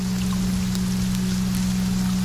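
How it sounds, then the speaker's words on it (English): Gentle rain falling on palace walls and rooftops: a soft, steady patter of scattered drops over a low constant hum, with no voices. "the rain has faded to a gentle pitter-patter"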